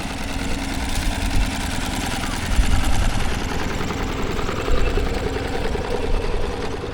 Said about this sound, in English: see a little steam engine going past there